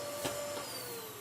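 A Hoover vacuum cleaner runs steadily while cleaning a sitting room, a continuous whining motor drone with a slight pitch shift, close and alone without talk.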